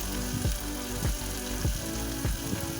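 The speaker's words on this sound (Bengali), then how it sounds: "পেঁয়াজটা নেড়ে চেড়ে এখন একে একে গাজর ক্যাপসিকাম বিনস কাঁচা লঙ্কা সব দিয়ে দিয়েছি দিয়ে সব একসঙ্গে এখন মিশাচ্ছি" Onion, carrot, capsicum, beans and green chilli sizzle steadily in hot oil while being stirred, with regular scraping strokes about every half second and no talking.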